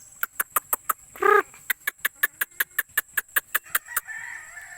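Hens and a rooster cluck in a quick, steady series of sharp notes, broken once by a longer, louder squawk, close by with no talking.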